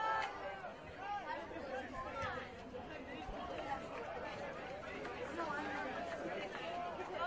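Distant crowd murmur fills a college soccer stadium during a UConn away match at USF, a steady low babble beneath a commentator's voice running throughout.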